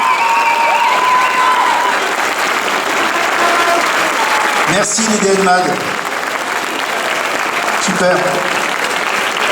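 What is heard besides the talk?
audience applauding loudly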